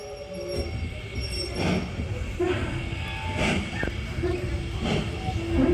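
Steam train 7828 Odney Manor pulls away from Watchet on the West Somerset Railway with rumbling carriages, hissing steam and intermittent wheel squeals, while people talk nearby.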